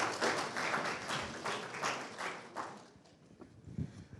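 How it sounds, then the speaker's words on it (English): Applause from an audience welcoming a professor at a Ghana Institute of Engineering event, fairly faint clapping that thins out and dies away after about three seconds. "please give him a louder round of applause"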